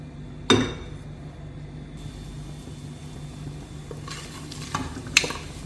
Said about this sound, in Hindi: ½ कप ऑयल ऐड करेंगे। इसमें हम ये सारा होल स्पाइसेस ऐड कर देंगे।